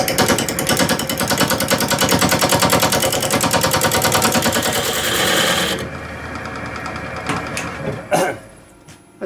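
A wood lathe spins a flat-sided vase blank at 600 RPM with a loud, steady, rapidly pulsing rattle that stops abruptly partway through, followed by quieter knocks and taps nearby.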